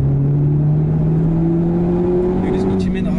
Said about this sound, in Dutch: Dat blazende geluid van die Akrapovic uitlaat.